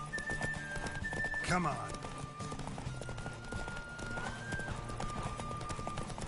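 Galloping horse hooves in the Witcher 3 video game, a steady rapid clip-clop with a brief whinny, running under a voice and background music.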